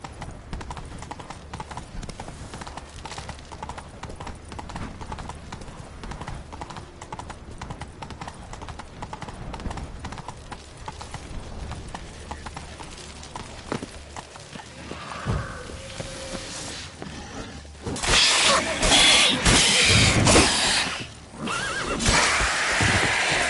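A horse in The Witcher 3 gallops with rapid, rhythmic hoofbeats throughout, then near the end breaks into a loud, drawn-out neigh that rises above the clatter before the galloping resumes.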